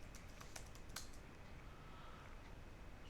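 Faint, quick keystrokes on a computer keyboard, a few sharp clicks bunched in the first second while Linux commands are typed, then only a low steady hum.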